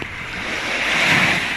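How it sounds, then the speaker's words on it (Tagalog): Strong ocean waves wash onto a beach in Batangas, Philippines, a steady broad roar of surf with some wind noise, building slightly toward the middle and heard alone without voices. "Lakas ang alon"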